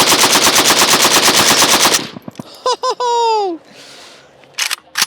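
A Rifle Dynamics AK Thumper rifle fires a rapid full-auto burst of about twenty loud, closely spaced shots. The burst stops abruptly, followed by clinks, brief squeaky mechanical tones and faint handling noises.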